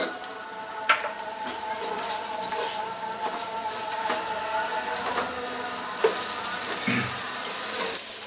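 Whole spices, bay leaf and cardamom, sizzle with onion in a hot pan for vegetable pulao, a steady close frying hiss with soft stirring scrapes and occasional louder pops.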